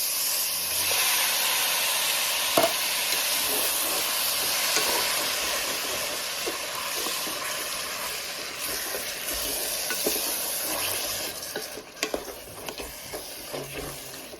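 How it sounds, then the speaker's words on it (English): Stewed tomatoes hit a hot pan holding celery and green peppers, and their juice deglazes it with a loud, steady hissing sizzle and some stirring. The sizzle eases slightly toward the end, where a few scrapes stand out. "the juice from the stewed tomatoes is going to deglaze this pan"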